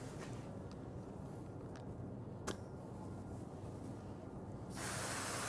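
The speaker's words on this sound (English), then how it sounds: "That's the air blowing across the cap to keep it clean." Compressed air hisses steadily across the air cap of a Fusion MP spray gun, a continuous broadband rush with a brief click partway through and a louder surge near the end, no voices.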